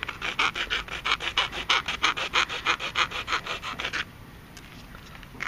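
A file rasps back and forth over the notched tips of a PVC longbow in a quick, even rhythm of about twenty strokes, close and clear, then stops.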